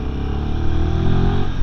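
A Royal Enfield 450 Himalayan's single-cylinder engine rumbles in fourth gear at around 30, a steady low, throbbing drone heard close up from the rider's seat, alone without talk.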